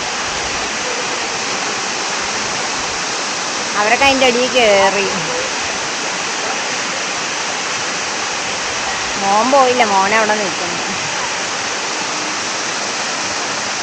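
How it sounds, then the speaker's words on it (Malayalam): Pattathippara waterfall roars as a loud, constant rush of falling water filling the scene, while voices talk briefly over it twice. "മോളിന്ന് വെള്ളച്ചാട്ടം വീഴുന്നു."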